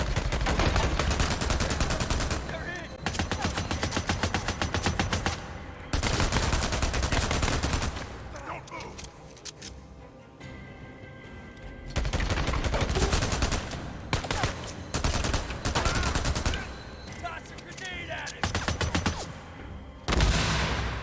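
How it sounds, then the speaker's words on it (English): Light machine gun fire in Days Gone: long, loud sustained automatic bursts broken by brief pauses, continuing for many seconds as a heavy, relentless barrage. "is everyone equipped with a fucking light machine gun?"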